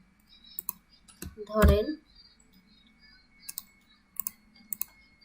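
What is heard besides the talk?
typing text on a computer keyboard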